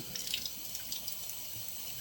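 Tap water running steadily into a bathroom sink during a skincare routine, a continuous close hiss and splash with no talk over it.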